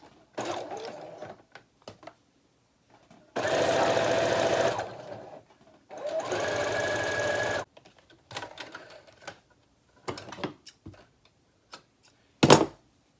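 A sewing machine back-stitching seams on a triangle bralette, with two longer steady whirring runs of several seconds, separated and followed by short clicks and brief bursts of stitching, close and clear.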